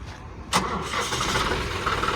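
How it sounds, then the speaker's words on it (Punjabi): A John Deere 5210 tractor engine cranks with a sharp catch and then settles into a steady, close diesel idle. "ਬਾਕੀ ਤੁਹਾਨੂੰ ਸਟਾਰਟਿੰਗ ਚੈੱਕ ਕਰਾਉਣੀ ਆ ਸਾਊਂਡ ਸਾਊਂਡ ਚੈੱਕ ਕਰ ਲਓ"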